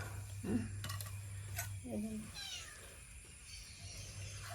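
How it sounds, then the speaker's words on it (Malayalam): A cat meows a few times nearby, with short rising and falling cries, over a low steady hum and faint background voices. "വരുന്നുണ്ട് പൂച്ച"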